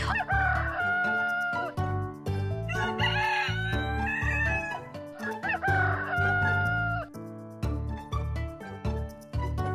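A rooster crows cock-a-doodle-doo, loud and close, several crows in a row with clucking between them, set against a musical backing in an animated children's story.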